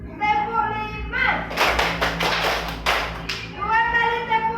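Students in a Bukittinggi classroom answer with a rhythmic clapping game, a fast series of about five loud, sharp group claps in the middle, framed by a teacher speaking on both sides.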